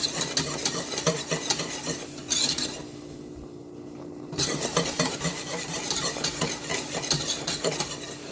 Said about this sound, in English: I'm going to keep stirring it like this so it doesn't stick